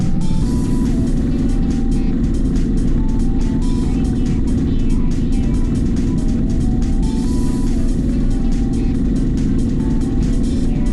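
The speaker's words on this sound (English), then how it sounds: "I cut this video so we can see how fast this bus engine can go with a normal sized vehicle." A bus engine fitted to a normal-sized car in the video game A Long Road drones loudly and steadily at a constant pitch for the whole stretch, with no talking over it.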